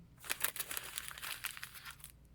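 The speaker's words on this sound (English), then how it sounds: "the crinkling of paper that's wrapped around the presents." Crinkling gift wrap paper around a Christmas present, a close run of crisp, bright crackles and rustles lasting about two seconds, alone with no talk.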